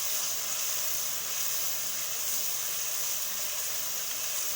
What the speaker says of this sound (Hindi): जब तक प्याज ब्राउन होगा साथ साथ टमाटर जो हैं वो भी भून जाएंगे